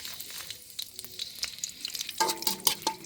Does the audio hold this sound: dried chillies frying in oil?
yes